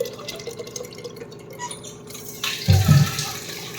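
Rice goes into hot water in a cooking pot with a short, close splashing pour near the end, after a stretch of faint kitchen background.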